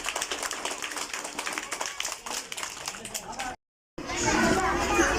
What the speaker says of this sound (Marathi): जोरात टाळ्या वाजवायच्या एकदा